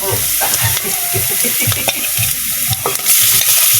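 Garlic and onion sauté in a pan for a Filipino ginisang munggo, with a steady loud sizzle and rhythmic scraping stirs repeating about every half second, close and without any talk.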